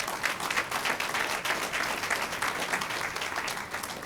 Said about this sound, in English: please give a round of applause for James King